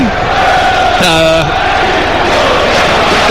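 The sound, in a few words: football crowd roaring at Leicester City vs Newcastle United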